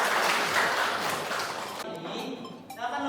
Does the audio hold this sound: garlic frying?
no